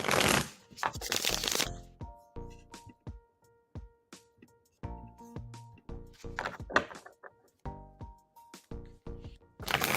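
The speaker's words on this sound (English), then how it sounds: "shuffling for you now for the love spread" Tarot cards being shuffled during a live reading, with repeated riffling bursts and softer card slaps and taps in an irregular rhythm, close and fairly clear, with no talking.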